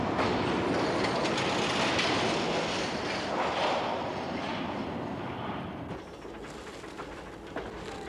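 A 1975 Glasgow Subway train runs loudly with a dense rushing rumble and faint clatter, easing slightly in volume toward the end.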